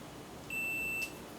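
A multimeter continuity tester gives one steady high beep lasting about half a second while checking neutral and ground on an extension cord, clear and close against a quiet background hum.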